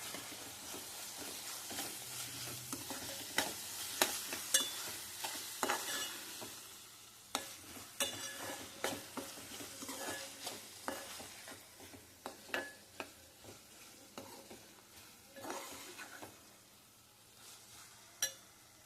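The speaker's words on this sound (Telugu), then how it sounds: "ఇందులో ఇప్పుడు అల్లం వెల్లుల్లి పేస్ట్ వేస్తున్నానండి." Ginger garlic paste fries in a pan for prawn masala curry, a soft continuous sizzle broken by frequent spoon scrapes and light clinks against the pan as it is stirred, close by and fairly quiet.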